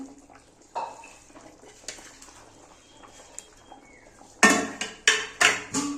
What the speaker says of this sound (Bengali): দেখো ঝোলটা ফুটে গেছে, এবার আমি মাছগুলো সব দিয়ে দেব।